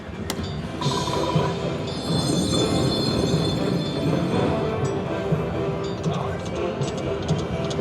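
The train mode of a casino slot machine plays a train sound effect, a loud rolling rumble with squealing, whistle-like tones above it. Casino background noise and voices run under it.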